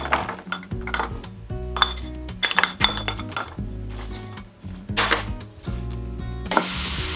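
Metal spatula scraping and clinking against a pan while carrot stir-fries in a little vegetable oil, with a steady run of irregular taps and scrapes, close and fairly loud, no talking.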